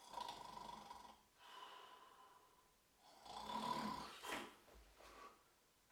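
A person snores in a quiet room, two slow rasping breaths separated by near silence, the second louder and ending in a brief snort-like catch.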